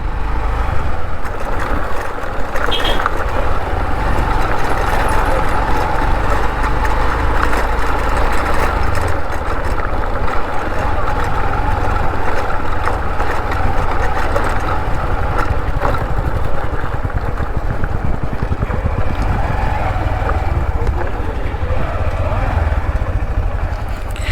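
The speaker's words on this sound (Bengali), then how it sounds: "আর এই যে আমাদের বাইক এসে গেছে" A 125 cc motorcycle idling by the Murti river, a steady loud low engine throb running throughout, close by, with voices talking over it in places.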